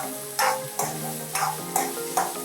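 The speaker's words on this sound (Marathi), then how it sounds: "हा कांदा चांगला लाल होईपर्यंत परतायचा।" Onion sautés in a pan for a Marathi home-style methi matar malai, a steady close sizzle broken by four or five regular scraping strokes of a spoon stirring it, with no voice.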